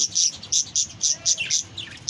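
An angry pet parrot in a cage gives loud, harsh calls in a rapid regular series of short bursts, close and clear, with a few squeakier chirps mixed in.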